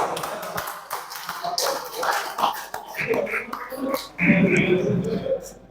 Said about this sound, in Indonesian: Tepuk tangannya dong, teman-teman